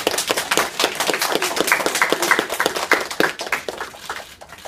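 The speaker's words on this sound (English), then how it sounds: "Boys and girls, can we give this hype a big round of applause?" Children clap in a round of applause, a sparse, uneven run of close, distinct hand claps with a loose rhythm that thins out toward the end.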